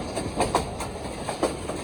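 A Pakistan Railway passenger train runs on its rails, approaching a station. The rumble holds steady throughout, and a few soft rhythmic clacks from the wheels come through it.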